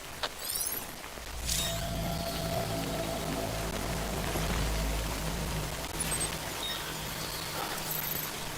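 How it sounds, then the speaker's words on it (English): Rain falls steadily in Death Stranding, a soft, even hiss of drops on surfaces, faint and continuous under a low ambient drone, with a brief louder patter near the start. "Good thing it's raining."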